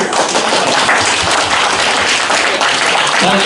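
Loud, dense applause from a debate audience fills the room steadily from start to end, a continuous wash of many hands clapping with no pause.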